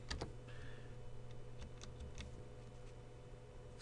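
Faint, sparse clicks of keys being pressed on a computer keyboard, a handful of soft taps over a quiet room hum.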